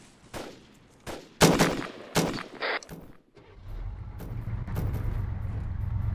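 Gunfire in ArmA 3 comes as several sharp, loud cracks and short bursts in the first half, some close and some farther off, before a vehicle engine rumbles in and carries on to the end.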